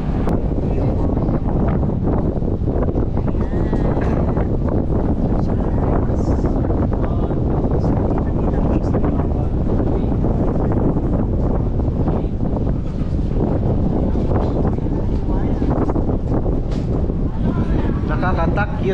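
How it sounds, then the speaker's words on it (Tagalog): Strong wind roars across the microphone for the whole stretch as a loud, constant buffeting rush, with voices now and then faintly under it. "Guys, masyadong malakas ang hangin dito."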